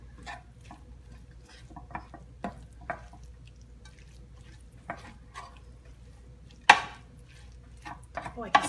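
Eggplant filling stirred in a pot for stuffed eggplant, with scattered soft scrapes and clinks of a utensil against cookware, one sharper knock near the end, faint and close with quiet gaps between.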